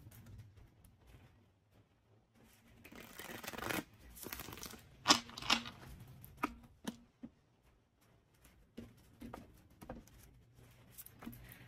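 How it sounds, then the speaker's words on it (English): Tarot cards being shuffled by hand in a quiet room, giving soft papery riffles and crinkling bursts mid-clip with scattered light ticks and taps throughout, close and fairly faint, no talking. "Get one more shuffle."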